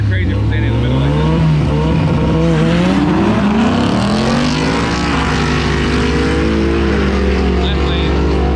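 A loud street race, with a Mustang pulling past another car, gives a roaring, revving engine drone that rises and shifts in pitch up close as a voice talks over it.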